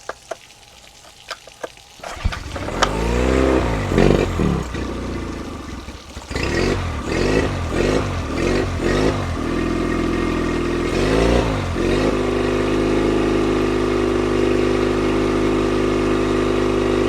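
An engine cranks and catches after a quiet stretch, stumbling through a few uneven revs before settling into a loud, steady run while it burns leftover oil out of a cylinder.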